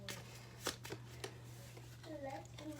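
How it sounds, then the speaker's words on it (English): Oracle cards riffle and slap in a brief shuffle near the microphone, with a few sharp card snaps standing out over a steady low electrical hum. "So I'm going to pull some love oracle cards."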